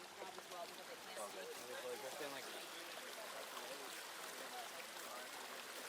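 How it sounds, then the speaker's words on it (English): Fast-flowing water rushes through wetlands overflowing after heavy rain, a steady broadband wash with a bubbling, trickling texture that holds at an even level for the whole stretch. "So it's flowing really fast because the wetlands like overflowed"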